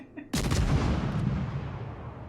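A sudden loud salvo from the guns of the destroyer Z-39 in the naval battle game World of Warships booms at once and then rumbles and decays over the next two seconds.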